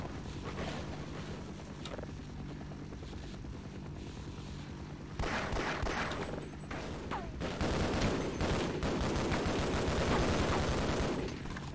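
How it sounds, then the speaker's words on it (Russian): Dense gunfire and explosions in the first-person shooter game Half-Life, a steady loud barrage of shots that grows denser and heavier midway through, with no talk over it. "Стрельба, пальба и пятка."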